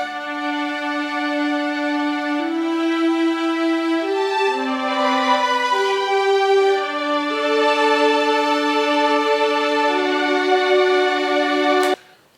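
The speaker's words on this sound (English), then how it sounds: "And then I have a violin section that's playing this." A violin section plays a slow, sustained melody in a song, with smooth legato notes gliding over steady held harmony, continuous and full, ending abruptly in a sharp click.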